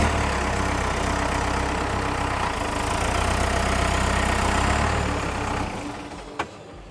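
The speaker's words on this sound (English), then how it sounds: "Our tech will put it through more of its paces, make sure it gets heated up and trans oil gets circulated" Pettibone 10056 machine's engine runs steadily after a transmission rebuild, a continuous low idle rumble that holds for several seconds, then fades quieter near the end with one brief click.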